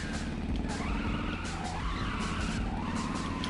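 Cars skidding and revving in the video game LittleBigPlanet 3, a dense continuous roar of engine and tire noise with wavering squeals, loud and steady throughout.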